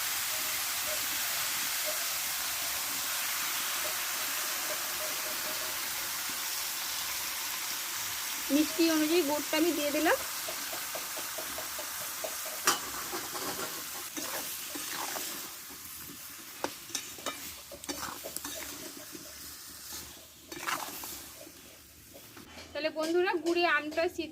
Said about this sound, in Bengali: আমটা দিয়ে তেলে একটু ভালো করে ঢেলে নিলাম